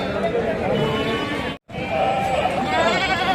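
Goats bleating amid a busy village animal market selling sheep and goats in Rajarampally, several wavering calls rising over crowd chatter and nearby talk, with one brief gap of silence midway.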